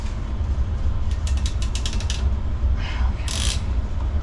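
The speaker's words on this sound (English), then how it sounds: "I needed to use the pinch clamp tool and pinch clamps" A pinch clamp tool crimps a clamp onto PEX-B water pipe during a water softener and filter install, giving a run of sharp ratcheting clicks and a final squeaky snap over steady background hum, up close.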